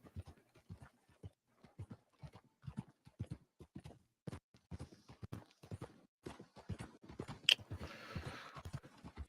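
Hooves clip-clop at a steady trotting rhythm from a horse in a video game, crisp and close, with a brief burst of noise near the end.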